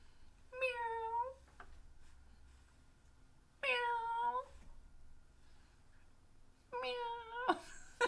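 Three bursts of cat meowing from a livestream super sticker sound effect, each a drawn-out harmonic meow about a second long, spaced evenly apart and heard clearly over a quiet background.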